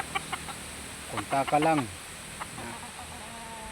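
Derby gamecocks being raised for a championship cluck intermittently at moderate distance, with a brief burst of louder calls midway, while someone speaks briefly.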